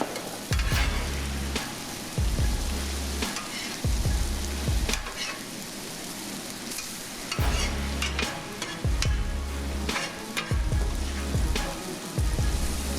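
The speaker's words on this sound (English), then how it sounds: "We're gonna get our onions back into the pot." Onions fry in a pot for burrito filling while a spoon stirs through them, sending out repeated scraping pushes over a constant close sizzle, loud and rhythmic with short pauses.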